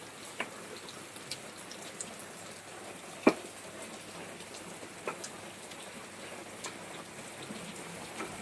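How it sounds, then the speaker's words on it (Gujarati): Steady rain falling outdoors, a soft continuous patter with a few sharper drops striking a surface now and then, moderately faint, with no voices. "વરસાદ આવ્યો"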